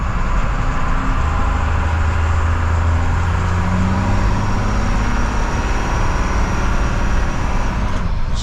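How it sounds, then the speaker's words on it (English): A 1980s Dennis DS fire engine's motor drones loudly from inside the cab while driving, a constant heavy rumble with shifting low tones as the engine note rises and falls slightly. "Just trying to ensure you can hear me over the sound of that engine."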